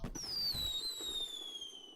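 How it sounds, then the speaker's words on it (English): Video game fireworks at a Bon festival, a faint, shrill descending whistle over soft, low distant pops and rumbles. "Yeah, those fireworks blow."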